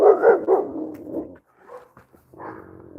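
A dog barks in a few loud close bursts, then gives quieter growls and whimpering yips after a short pause.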